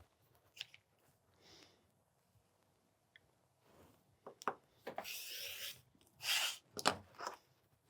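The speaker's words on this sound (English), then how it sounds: "Now I'm going to cut it apart in the very center." Scissors cutting through quilting fabric at the center of a pieced block, a few crisp snipping and sliding strokes, close and fairly loud, after quieter handling rustles.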